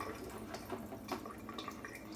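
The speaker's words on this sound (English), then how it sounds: "I'm gonna put a little bit more water in." Water poured and dripping into a bowl of thick shaving lather, a soft continuous trickle with small splashy drips, close and fairly quiet, with no talking.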